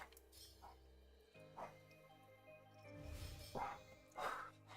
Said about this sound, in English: Sorry if you can hear the dog barking, I don't know what his problem is.